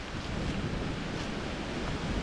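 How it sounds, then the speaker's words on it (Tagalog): Strong wind roars across a farm property in Palauig, Zambales, a dense, steady buffeting rush over the microphone with slight gusting swells and no voices. "Oh, lakas ng hangin, no?"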